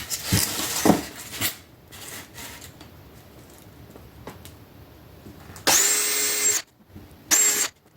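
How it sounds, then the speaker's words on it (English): A power drill bores holes into a 4 by 16 piece for a DIY river tube motor build, with two short loud bursts of whirring drilling after quieter handling clatter. "every 2 inches or so we're going to drill some holes in here"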